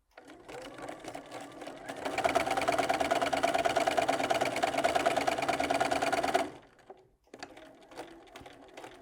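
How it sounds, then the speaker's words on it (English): A sewing machine chain piecing quilt pieces with a quarter-inch seam, running in a steady fast whirring stitch for several seconds before stopping, near and clear, with light handling noises around it. "So I'm chain piecing all of the pieces."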